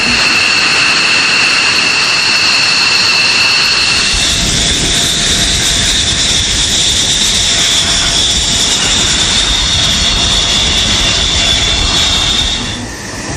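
An F-16 Fighting Falcon jet engine gives a loud, sustained roar with a piercing high whine. The roar holds steady, swells slightly after a few seconds and eases off at the very end.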